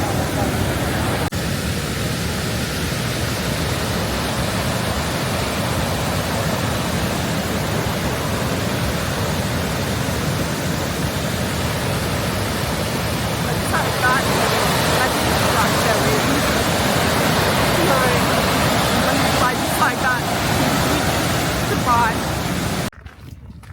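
First tier of a waterfall in Iceland, a steady broadband roar of falling water filling the whole span at close range, loud and continuous with little variation.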